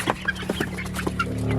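Several short clucks from a young chicken pullet in a nursery pen, close and fairly loud, coming in quick irregular bursts over a steady low hum.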